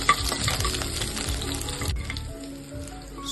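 Mustard seeds and urad dal fry in hot oil with a close, crackling sizzle and scattered pops that ease slightly toward the end, with no talking.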